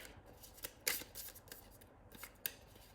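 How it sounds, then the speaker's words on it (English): A tarot card deck is shuffled gently by hand, a soft papery riffling with a few sharper snaps and slides, quiet and close, with no voices. "Let's get them back and continue shuffling."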